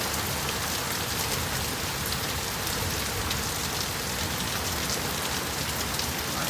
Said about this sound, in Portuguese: Agora veio a chuva, mas trovejando ele tá intensamente, não parou, hein?